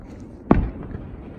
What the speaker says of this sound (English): I do like the fireworks.